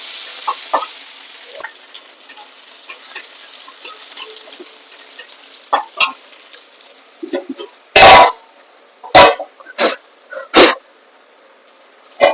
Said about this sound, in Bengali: রসুন দিয়ে হালকা করে একটু ভেজে নেবো